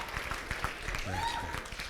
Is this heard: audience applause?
yes